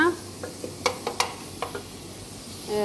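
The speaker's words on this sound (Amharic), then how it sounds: "በጋለ ድስት ላይ ዝብዳ ጨምሬ ነበር። ከዛ ሽንኩርት ጨመርኩኝ።" Onions frying in butter in a hot pot: several sharp spoon clinks and stirring taps over a faint sizzle, close by, with a brief voice at the start and end.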